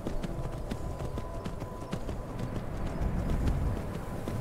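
Steady clip-clop of a horse's hooves on hard, rocky mountain ground in the video game Skyrim, a quick regular rhythm with crunchy impacts throughout.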